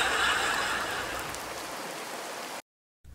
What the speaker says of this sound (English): Go outside and see if it's still raining, Garfield.